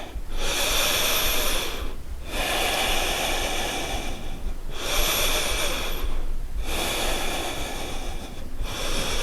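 Long, forceful breaths during a yoga squat come in a slow repeating cycle, four airy rushes separated by short pauses, close and loud with no talking.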